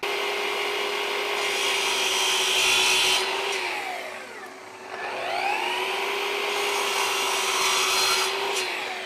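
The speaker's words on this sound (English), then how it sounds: "Let's head over to the miter saw and we can cut it up." A miter saw whines steadily, then bites into brass tube with a rising screech as the motor dips and recovers, running loud throughout.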